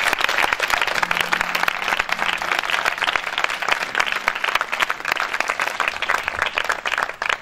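A church congregation applauds steadily for the full stretch, a dense, continuous wash of many hands clapping with faint voices mixed in.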